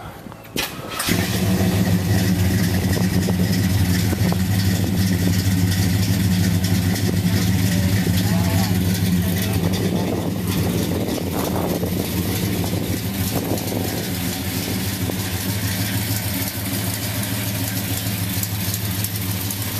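A 1965 Impala classic car engine starts and settles into a steady, rumbling idle that continues close by, with a brief revving swell in the middle.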